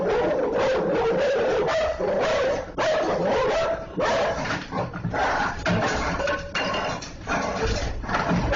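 A guard dog barks and yips repeatedly in loud, close bursts, with brief whimpers between volleys, continuing for several seconds without speech.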